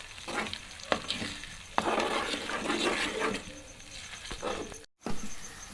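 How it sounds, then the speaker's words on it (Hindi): Soaked semolina being stirred in hot ghee in a pan for milk halwa, a continuous close sizzle and scraping with rhythmic spoon strokes, one brief dropout near the end. "पहले इसको अच्छी तरह से मिक्स करेंगे घी के अंदर"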